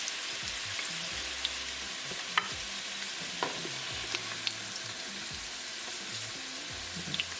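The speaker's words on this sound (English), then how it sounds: "And we're going to fry it the same way. So keep it moving so it won't get burned." Pieces of taro root fry in hot oil in a pan, a soft continuous sizzle broken by occasional light scrapes and taps as they are kept moving.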